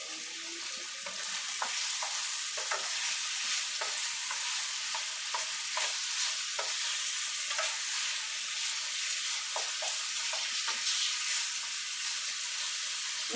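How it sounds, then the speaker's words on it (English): Food sizzles steadily in a pan on a home stove while a utensil scrapes and stirs at irregular intervals, a constant hiss under scattered clinks with no talk. "It's just a lot of stirring and a lot of adding liquid."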